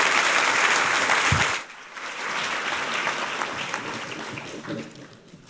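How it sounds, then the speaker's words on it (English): A large audience applauds at a Pro Football Hall of Fame awards ceremony, a loud dense clapping that stops abruptly, then a quieter scattered round of claps tapers off. "One more round of applause for our PR directors, Scott Berchtold, Jimmy Gal, Lee Remmel."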